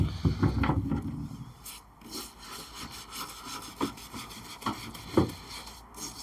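Old stains on a Welsh dresser are scrubbed with washing-up liquid and rubbing alcohol. Coarse, rhythmic rubbing strokes scrape back and forth at close range, moderately loud, without talking.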